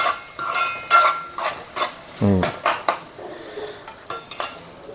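Onion, green chili and ginger paste frying in a pan for a Godavari prawn and chana dal curry, a low sizzle under repeated metal spatula scrapes and clinks against the pan, with one louder rattling scrape midway.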